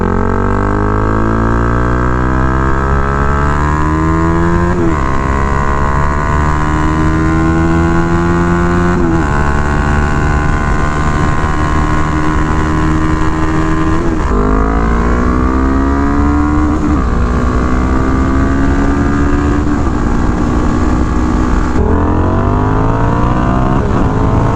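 Honda Rebel motorcycles, 300, 500 and 1100 models, race with loud, steady engine drone throughout, revs repeatedly climbing and dropping through gear changes, close and continuous with no talking.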